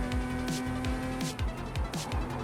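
A racing video game car downshifts rapidly, its engine pitch dropping in a quick series of repeated sweeps, roughly twice a second, loud and continuous with no voices.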